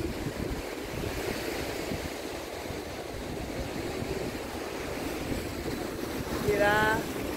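Ocean surf rolls steadily on Boa Viagem beach in Recife on a busy Sunday afternoon, a constant broadband wash mixed with wind buffeting the microphone, with a faint brief whistle-like sound near the end.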